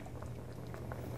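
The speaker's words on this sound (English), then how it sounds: "Our gravy is simmering" Gravy simmers in a pot with a soft steady bubbling, small pops rising now and then over a low continuous rumble, close and quiet.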